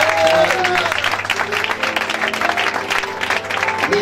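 A church congregation applauds and cheers for Jesus, dense continuous clapping with crowd voices, loud and sustained throughout.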